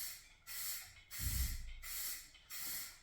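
A spray can lays a light first coat of paint on a GMC Sierra 1500 hood scoop, hissing in repeated close bursts of about half a second with short pauses, and a soft breathy sound in between, no talk.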